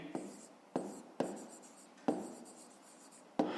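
A pen writes by hand on paper in short quiet bursts of scratching strokes, separated by brief pauses, close and soft.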